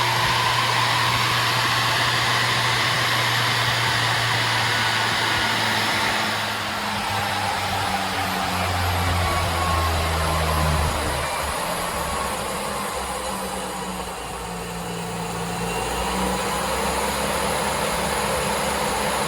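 A DIY treadmill motor runs at 75% duty cycle on a budget controller, giving a continuous loud whine whose pitch slides and shifts as the speed levels out. No one talks.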